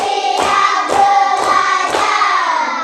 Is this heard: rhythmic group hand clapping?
yes